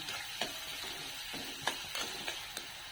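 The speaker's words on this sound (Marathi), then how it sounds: "आता हा कांदा आपला छान हलका परतून झालाय" Onion sautéing in a pan for poha makes a faint continuous sizzle, with a few sharp clicks of a spatula tapping the pan at irregular intervals.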